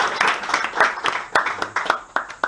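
Audience applauding for a young boy at a church gathering, a burst of uneven, fairly close claps with irregular sharp peaks that carries on steadily throughout.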